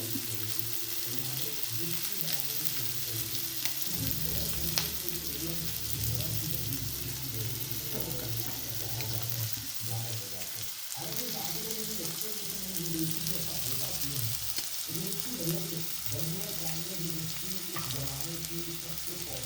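Red chillies sizzle and crackle in hot oil in a pan while flax seed chutney is being made, a steady, close frying sound that runs without pause, with occasional clatter and some background voice.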